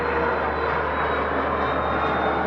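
A Sun Express airliner taxiing out produces a steady, even engine rumble and hiss, continuous and moderately loud with no breaks or talk.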